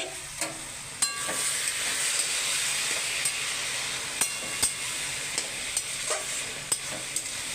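A pot of bottle gourd and prawns cooks on the stove with a steady hiss of steam and sizzle, punctuated by sharp clicks and clatters of the lid and spoon, fairly close and without talk.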